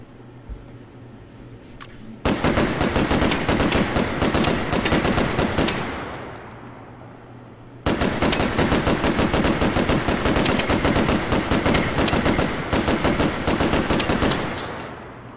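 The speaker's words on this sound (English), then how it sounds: "that is a hand crank minigun" Hand crank minigun in the VR shooter H3VR, two long rapid-fire bursts of tightly spaced loud shots, the first tapering off as the crank slows, then a second sustained stream, with no talking.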